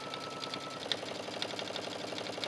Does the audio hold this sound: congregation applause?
no